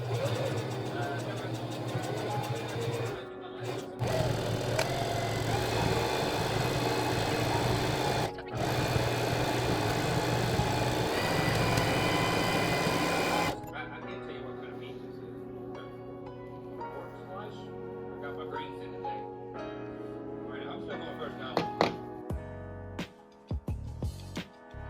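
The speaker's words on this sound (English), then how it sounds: "After that, we sew the nose to the base of the mask." A sewing machine stitches the nose onto the base of a Spider-Man mask, running in a steady, close whir with two brief pauses, then stopping for softer handling noises and light clicks near the end.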